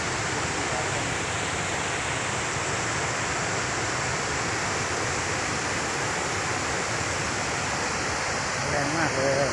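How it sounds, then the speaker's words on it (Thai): A waterfall in a Thai park surging strongly after rain, a loud, dense, unbroken roar of rushing water that fills the whole stretch, close by and steady without pause. "ไหลไปนู่นเลยนะครับน้ำตก"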